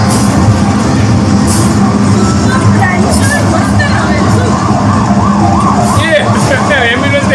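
An ambulance siren wails from an arcade driving video game in a busy game zone, loud and continuous, tangled with other electronic game sounds and crowd noise.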